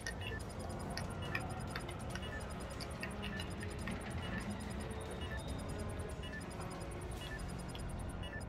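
A planted bomb in a competitive video game gives off a fast, regular ticking that runs steadily under a dense backdrop of game ambience and music, with no speech.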